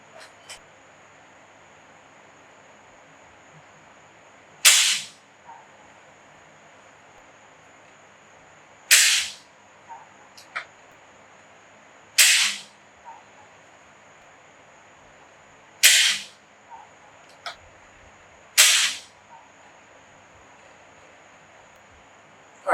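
An AEA Challenger Pro .30 caliber air rifle fires 54-grain Zan slugs five times, each a sharp, loud crack with a short tail, spaced about three to four seconds apart over quiet background hiss.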